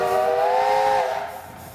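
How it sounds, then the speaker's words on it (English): A train's steam whistle mounted on a 2075 Nichols and Shepherd steam traction engine at a county threshing bee gives one loud, close, chord-like blast of a little over a second, then tapers off. "Hold your ears, he's gonna give us a loud whistle."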